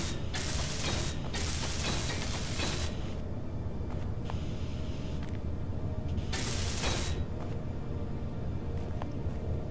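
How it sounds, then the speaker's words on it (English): Welding in the Space Engineers video game gives a steady mechanical hiss and grind with bursts of harsh spraying noise that cut in and out at intervals. "And quickly weld up these bits at the bottom."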